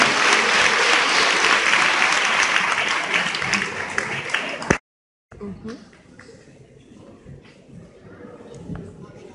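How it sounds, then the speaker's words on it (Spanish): Enthusiastic audience applause welcoming a doctor to the stage, dense and loud for several seconds, then cutting off abruptly into a quieter stretch with scattered room noise and a voice. "vamos a recibir al doctor Darío Machea con un gran aplauso"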